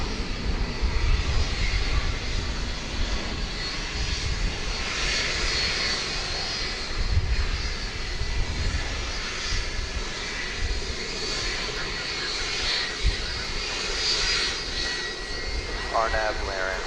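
An Airbus A340-300 jet rolls at DFW airport at night, its engines giving a broad, continuous roar that swells and eases over time, with people talking faintly underneath.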